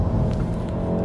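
A 2016 VW Golf R engine roars steadily up close under load, a dense continuous rumble with a brief throttle blip on a downshift.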